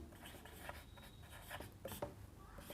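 Handwriting close up, a pen scratching and tapping across a surface in short irregular strokes, quiet and steady with no talk over it.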